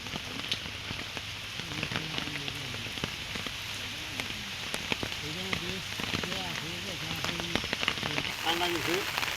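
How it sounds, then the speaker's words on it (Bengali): Heavy rain pours steadily on a village in Bangladesh, a dense unbroken hiss with scattered close drops and patters throughout, and a voice murmurs faintly beneath it. "এই বৃষ্টির মধ্যে ভিডিও করাটা খুবই কঠিন ব্যাপার"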